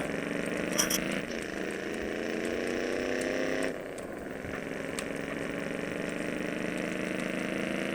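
Car engine in the MTA roleplay video game running steadily for the whole stretch, a constant droning hum with a brief higher burst early on and a slight drop in intensity midway, with no talk over it.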